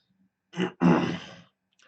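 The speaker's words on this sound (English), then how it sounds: "I'm sorry if I'm clearing my throat a lot" A single close throat clearing: a short grunt followed by a longer raspy rumble, then quiet.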